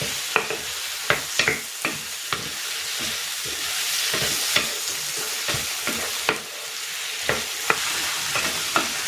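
Bagoong alamang shrimp paste and tomatoes sauté in a pan with a steady crackling sizzle, punctuated by repeated sharp scrapes and clacks of a spatula stirring at close range.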